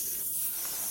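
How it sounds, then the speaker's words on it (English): Spray glue hissing steadily from a can onto a lampshade during a DIY project, a continuous close airy spray lasting about a second. "Have you seen how easy it is with spray glue?"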